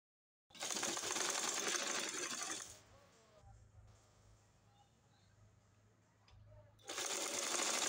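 A sewing machine stitches pieces of hijab fabric together in two loud, steady runs of rapid stitching, separated by a quieter pause in which the fabric is handled and turned.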